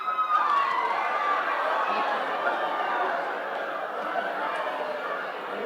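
A seminar audience greeting one another as new friends, a dense crowd chatter of many overlapping voices with scattered laughter and excited exclamations filling a large room continuously.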